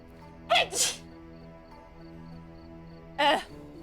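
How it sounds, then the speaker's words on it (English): Two sharp sneezes from a character in a Sherlock Holmes video game, one doubled burst early and another about two and a half seconds later, standing out loudly over a quiet background hum. "I sneeze in your criminal direction."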